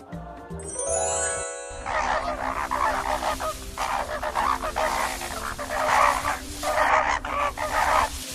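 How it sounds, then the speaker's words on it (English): A flamingo, a tall pink bird with long legs and a curved beak, gives repeated loud nasal honking calls in a continuous noisy flock-like burst, following a short tinkling chime at the start. "A flamingo is a tall pink bird with long legs and a curved beak that stands on one foot."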